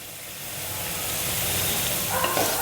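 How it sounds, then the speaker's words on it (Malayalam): Chili and turmeric powders sauté in a pan for Thrissur-style puli inji, a steady close sizzle that swells gradually over a low background hum, with a faint stirring scrape near the end. "ഇത് നന്നായിട്ടൊന്ന് ഇളക്കി വഴറ്റിയെടുക്കുക"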